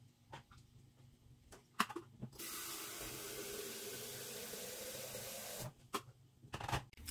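A tap runs steadily into a kitchen sink for about three seconds, bracketed by scattered clinks and knocks of dishes being handled, while pig ears boil for sisig.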